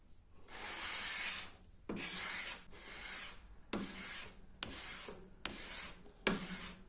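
A knife blade is drawn across dry paper sandpaper in seven steady, rasping strokes, each a close, scratchy hiss lasting about a second, separated by short pauses.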